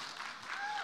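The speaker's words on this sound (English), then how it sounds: "Give the nerds a round of applause." An audience claps in a brief burst of dense applause, heard at a distance without speech.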